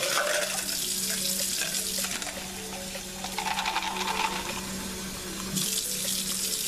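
Tap water runs steadily into a sink while tumbled rocks are rinsed after two weeks in a National Geographic Pro Rock Tumbler, a continuous close splashing flow with light clinks of stones, with no talk.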